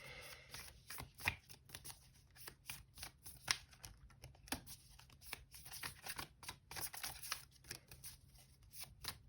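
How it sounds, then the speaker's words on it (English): Close, crisp tarot card shuffling in repeated riffling bursts with sharp flicks and snaps, continuing steadily with no voices. "I feel like giving this another shuffle"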